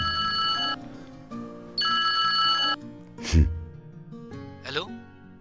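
A telephone bell rings in two bright, sustained bursts, followed by sharp breathy gasps or sighs in a quiet room.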